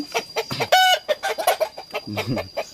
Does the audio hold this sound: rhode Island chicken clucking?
yes